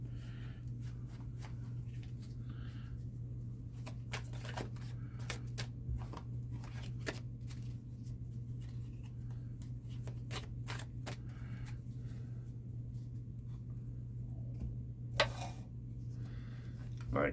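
Playing cards are handled and shuffled before going into a dealing shoe, giving faint, sparse clicks and soft riffles with one brief louder flutter, over a steady low electrical hum in a quiet room.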